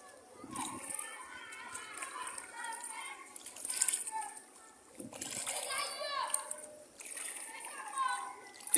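Children splash and play in flood water spreading everywhere at Kejikope on the Togo coast, their chatter and shouts rising over repeated watery splashes, sounding close and lively throughout.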